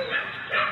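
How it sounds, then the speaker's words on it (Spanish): A short dog bark, a couple of quick yips close to the microphone, with no other sounds. "aunque la cámara no captó, se encontraba ladrando Huacatay"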